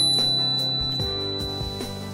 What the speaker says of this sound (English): create a compact, versatile bell with powerful sound